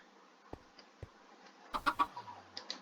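A chicken in the Minecraft video game gives a short burst of clucks near the end, after two faint earlier blips, heard alone with no talk.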